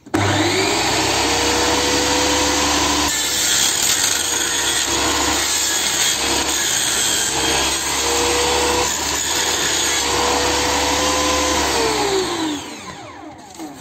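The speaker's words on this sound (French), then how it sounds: "Donc après on va repasser à la scie sous table." A table saw runs steadily while wood is fed through it, a continuous loud whine and rasp of ripping that holds for the whole stretch, then spins down.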